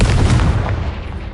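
Confringo, an explosive fire spell in Hogwarts Legacy, goes off as a loud, booming blast with a rumbling low-end body that fades slowly over about a second.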